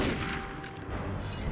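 Gunfire in Assassin's Creed Unity, a burst of sharp cracks with rumbling echoes filling a short moment, loud and close with no voices over it.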